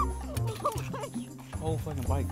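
A dog barks and yips a few times close by, mixed in with people talking loudly over it.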